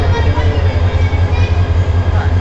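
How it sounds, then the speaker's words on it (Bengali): The passenger train Sindur Godhuli bound for Kishoreganj rolls by up close, a loud steady rumble with rhythmic low thumping from the wheels, carrying on without a break. "আজ এই ট্রেনটি দেখতে পাচ্ছেন, এটি হচ্ছে কিশোরগঞ্জ অভিমুখী 11 সিন্দুর গোধূলি।"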